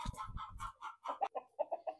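Young chickens clucking on a farm, a quick run of short close clucks and peeps in an uneven series, clear and alone.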